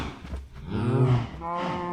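A cow mooing in Minecraft, one drawn-out low bovine moo rising and falling, fairly loud and close, with quieter low game ambience around it.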